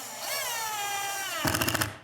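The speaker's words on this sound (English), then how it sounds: "if you have one of these drill drivers" A drill driver drives screws into wood boards while a vertical garden wall planting structure is built: a steady motor whine slides slowly down in pitch, then ends in a short burst of rapid, clattering ratchet-like clicks, close and without talk.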